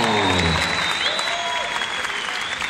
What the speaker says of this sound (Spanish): despidamos con un fuerte aplauso a Oriundo del Salta, Argentina, el Grillo Ma